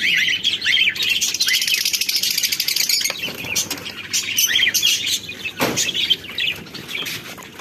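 Pet finches, including Fischer's lovebirds, fill an aviary with busy, close high-pitched chirps and tweets. Several bursts of wing flapping break in, and nobody speaks.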